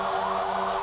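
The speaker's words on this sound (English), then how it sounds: "They love blowing their horns in there and playing their sirens" Wailing emergency sirens from vehicles rolling through a Christmas parade of lights, a steady sustained tone at moderate distance with no talk.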